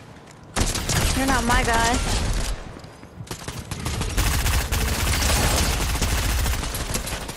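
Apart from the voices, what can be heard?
gunfire in a video game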